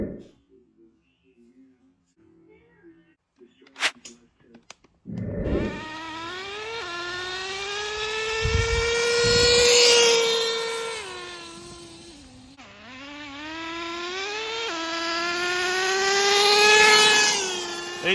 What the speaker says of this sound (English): Just this engine ain't running that great.